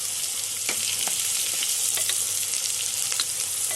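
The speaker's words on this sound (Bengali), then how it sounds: "কড়াই তেল দিয়ে পেঁয়াজ আর দুটো কাঁচা লঙ্কা গরম মশলা দিয়ে দিচ্ছি।" Onions and two green chillies fry in oil in a wok with garam masala, a steady, bright sizzle broken by light crackles and stirring taps, with no voices.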